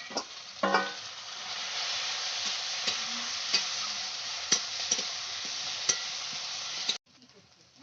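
Garlic paste, ginger paste and crushed green chillies sizzling with onions in a pan, a continuous close hiss punctuated by periodic spatula scrapes and taps, cutting off near the end.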